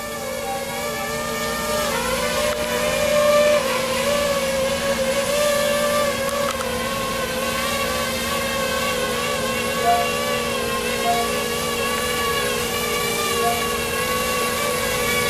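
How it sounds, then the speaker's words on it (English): A small drone hovers nearby with a steady, whining multi-rotor buzz. The tone wavers slightly as it flies, and no one speaks over it. "I'm going to be testing out my Azure SQL drone"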